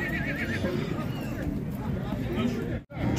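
Horses neighing and whinnying at a livestock bazaar in Taraz, with a long wavering whinny near the start over steady crowd babble and hoof clatter, under continuous background chatter.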